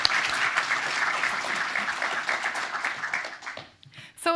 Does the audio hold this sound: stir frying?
no